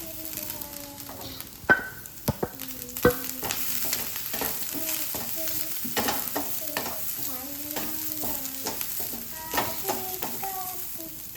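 Grated coconut is dry-roasted in a pan, with a soft continuous frying hiss broken by repeated scraping strokes and sharp clicks of a spatula against the pan.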